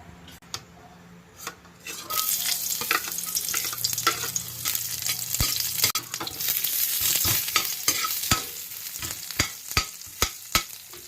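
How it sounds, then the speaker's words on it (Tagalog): Sardine soup with miswa noodles and kulitis leaves cooks in a pot, with a steady sizzle and bubbling underneath sharp metal utensil clinks and scrapes that grow more frequent and distinct toward the end. "Magluluto si Kayo ng sardinas with miswa."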